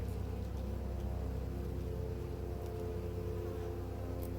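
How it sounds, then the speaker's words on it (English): Calm honey bees at an apiary hive, a continuous low droning hum with steady tones, close and unbroken, with no voices. "Nice calm bees compared to next door"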